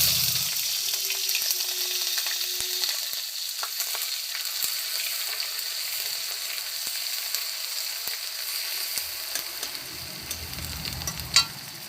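Onion paste frying in hot oil in a pan for a fish korma, a steady soft sizzle with faint occasional ticks and a brief stir, close and continuous with no talk.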